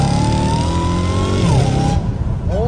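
A Dodge Challenger Hellcat Redeye fitted with a cat-back exhaust roars loudly up close. The engine revs steadily, the pitch dips briefly, and then it climbs again as the car accelerates, with no talk.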